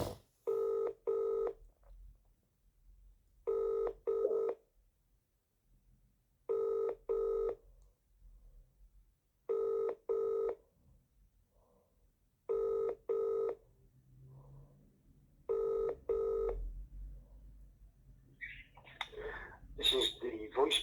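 A telephone keypad beeps out a dialed number in short DTMF tone pairs, then rings repeatedly in evenly spaced double bursts on the line before a faint voice and rustling come in at the end.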